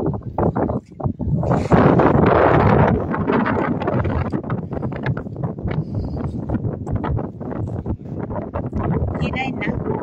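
Gusty wind buffets the microphone outdoors at a windy seaside spot where small fish and crabs are being sorted, a steady roar with a stronger blast early on, while people talk over it.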